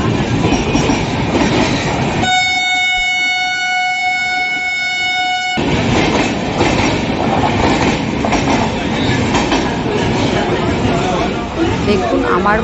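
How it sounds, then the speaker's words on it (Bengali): Trains pass a railway platform with loud, continuous rumble and clatter, broken by a sustained multi-tone horn blast lasting a few seconds, while the rolling stock keeps thundering by close up. "তো দাঁড়িয়ে আছি, তো ট্রেনগুলো যাওয়া আসা করছে"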